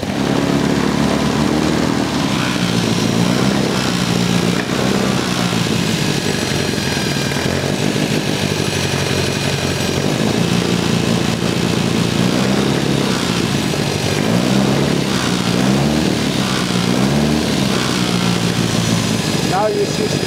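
A cold 1978 Hawke Formula Ford FF1600 race car engine runs at a steady idle, a loud continuous drone close by, while a person talks over it.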